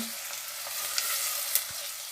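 Steady sizzle of onions and garlic frying in a pan for aloo chana masala, a continuous crackling hiss with a few brief stirring clinks, no voices.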